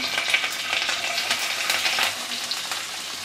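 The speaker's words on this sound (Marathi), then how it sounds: "आता यामध्ये आपण राई घालूया, त्यानंतर जिरं, कढीपत्त्याची पानं, हिरवी मिरची आणि कांदा" Mustard seeds, cumin, curry leaves, green chili and onion frying in hot oil in a pan, producing a dense, close crackling sizzle with faint stirring throughout.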